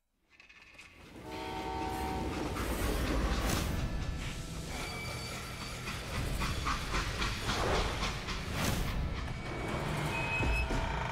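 Freight train in the video game Call of Juarez: Gunslinger, a steady loud rumbling run with clanking and hissing, plus horn-like tones rising through the middle and end.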